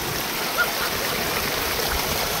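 A mountain stream flows steadily, its broad hiss of moving water continuous and close, with no voices.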